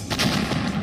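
A loud, sharp explosion strikes an administrative building in Kharkiv, followed by rumbling, crackling debris noise as the building collapses, dense and continuous for under a second.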